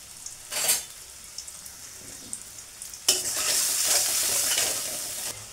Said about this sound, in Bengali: এরপরে এটাকে আমি ফ্রাই করব।